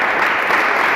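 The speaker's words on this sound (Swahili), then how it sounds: "Tumpigie makofi mengi Daktari Samia Suluhu Hassan" An audience at a college event in Mbeya claps in a dense, steady burst of applause, loud and continuous for about a second with no voices on top.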